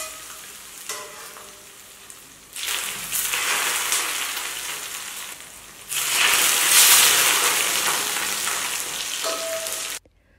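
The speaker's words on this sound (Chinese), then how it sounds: "往辣椒上淋热油， 听听这声音。" Smoking-hot oil poured over chili pepper pieces, Sichuan peppercorns and sesame seeds on boiled fish slices, bursting into loud crackling sizzles in two long surges with a brief quieter pause between.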